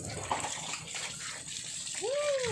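Water sloshing and gushing during a bath outdoors, a continuous close splashing wash, with a brief high voice-like whoop rising and falling near the end.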